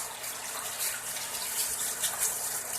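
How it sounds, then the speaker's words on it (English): Water sprays and splashes steadily against the wheels of a 2023 Craftsman M110 lawn tractor in a repair shop, a continuous close hiss and gush with no talking. "This is the way we wash our wheels at our shop."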